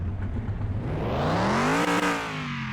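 Engine of a McLaren M8B race car in a video game revving hard, pitch climbing steadily to a peak, dipping briefly, then holding a high, buzzy whine, loud and close.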